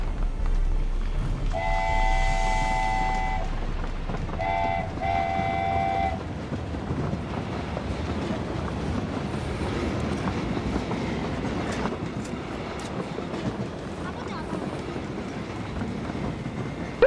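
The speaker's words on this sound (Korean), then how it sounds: "열차 왔습니다." A passenger train pulls in during a zombie-themed Train to Busan mode of the battle royale game PUBG. Two long horn blasts ring out, then give way to a steady, loud rolling rumble of the wagons running along the rails.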